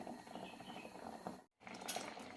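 Broken wheat biryani in a pot on the stove just coming to a boil, giving a steady, faint bubbling hiss with light clicking textures, briefly cut to silence midway before resuming.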